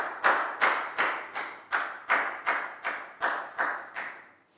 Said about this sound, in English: High five and a big round of applause for Lakau, please, guys.